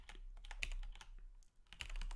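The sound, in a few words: typing on a computer keyboard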